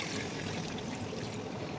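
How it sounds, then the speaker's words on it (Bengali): Water poured into chicken curry to make the gravy, a continuous close splashing pour that holds steady for the whole short stretch, with no talk. "এবার এখানে অ্যাড করে দেবো ঝোলের জন্য পানি"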